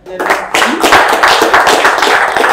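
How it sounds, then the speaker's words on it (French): A university audience applauds at a formal ceremony. Loud, dense clapping swells after a brief quiet start and keeps going, with voices heard faintly underneath. "ça mérite en tout cas ces applaudissements, mesdames et messieurs"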